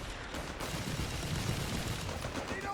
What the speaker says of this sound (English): he's doing a great job with this barrage ability from those half-tracks